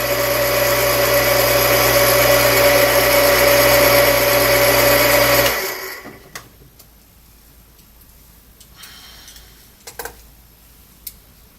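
Frankford Arsenal case trim and prep center motor spinning while chamfering and deburring brass cartridge cases, a steady loud whine that cuts off abruptly midway, leaving quiet room tone with a few small clicks and handling taps.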